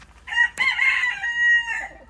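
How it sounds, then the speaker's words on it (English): Young chickens in an outdoor grow-out pen cluck while a rooster crows loudly and close by, one sustained crow stretching across the clip with no talking. "these are our youngest chickens that are out and about"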